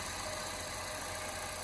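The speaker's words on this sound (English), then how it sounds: "I'm just running the engine up to temperature" A Jaguar XJS barn find's engine runs at a steady idle while warming up to temperature, giving a continuous close, even hum and rumble with no voices.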